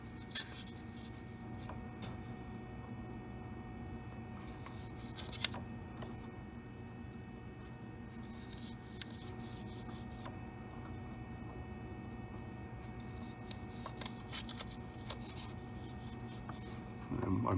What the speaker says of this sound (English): I'm hitting the paper here. That's what you're hearing.